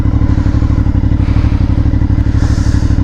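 An Aprilia Shiver 900 motorcycle engine runs close by with a loud, rapid, rhythmic thumping throb that stays steady throughout, without talk.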